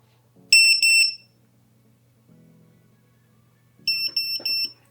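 Shrill, loud beeps from a standalone lost-model buzzer on a homemade FPV drone, a quick double chirp near the start and a cluster of several beeps toward the end, with a faint low hum and quiet handling noise between them.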